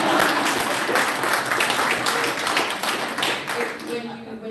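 An audience at a congressional event hosting a Democratic leader claps, a dense patter of hands holding steady and then fading slightly, with a voice talking over it.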